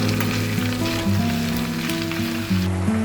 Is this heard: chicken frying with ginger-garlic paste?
yes